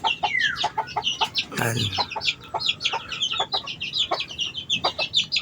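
Fighting-breed chickens and roosters on a farm cluck in overlapping bursts, with a loud squawk early on and a brief spoken word among them, the busy clucking continuing close by throughout.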